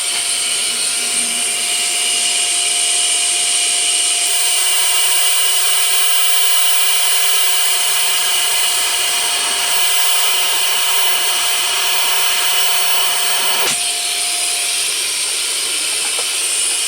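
Steady, even hiss of shielding gas flowing from a Lidl Parkside PTMI 180A1 TIG welder torch onto a freshly finished weld to cool it, continuous and fairly loud throughout, with one faint click near the end.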